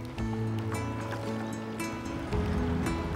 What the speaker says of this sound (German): Ein Nachbar von Ole und Jeanette paddelt vorbei